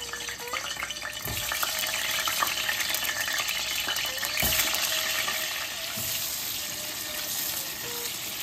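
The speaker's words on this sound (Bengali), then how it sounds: "এবার বেগুনগুলোকে ভেজে নিচ্ছি।" Eggplant pieces fry in hot mustard oil, making a dense, even sizzle that fills the whole stretch, broken only by a couple of soft taps near the pan.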